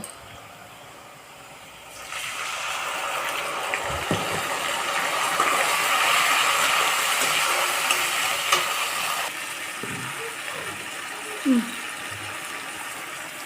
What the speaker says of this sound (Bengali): আদা রসুনটা ভালো করে ভেজে নেব, কাঁচা গন্ধটা থাকবে না।